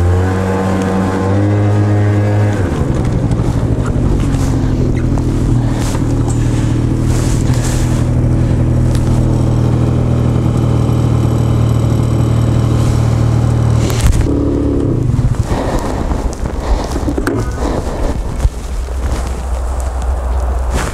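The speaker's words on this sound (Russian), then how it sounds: "А еще сцепление буксует." A Honda Giorno scooter engine revs hard with a slipping clutch, the pitch rising sharply and then holding a loud strained whine for a long stretch before dropping back, with wind buffeting the microphone.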